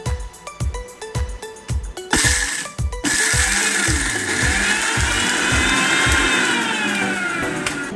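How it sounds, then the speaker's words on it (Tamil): A kitchen mixer grinder grinding curry leaf chutney with a little water pulses in short choppy bursts, then runs continuously with a loud, steady whirring roar. "கொஞ்சமாக தண்ணி சேர்த்து துவையல் பதத்துக்கு அரைச்சி எடுத்துக்கலாம்"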